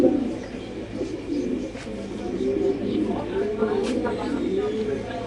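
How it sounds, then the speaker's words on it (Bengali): Madrazi show pigeons coo in a repeated, rolling series at close range on a pigeon farm, the low throaty calls recurring steadily over a murmur of background noise. "এটা সুন্দর একটা কবুতর, এই যে নর,"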